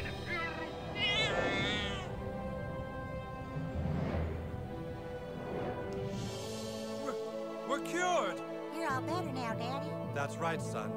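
In the video game South Park: The Stick of Truth, a cat meows repeatedly across the stretch, drawn-out and insistent, with game voices and sounds in the background.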